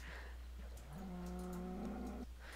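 A cow in the Minecraft video game gives a single drawn-out low moo lasting over a second, heard over a steady background hum.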